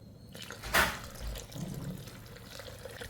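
Water splashing into a simmering pot of fish curry in a home kitchen, a single brief pour with a short gurgle, close and moderately loud, trailing into faint bubbling.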